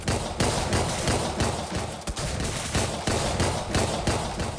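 Enemies in the game Deadbolt firing guns nonstop, a loud, rapid barrage of gunshots with rhythmic bursts and a brief pause midway, no voices.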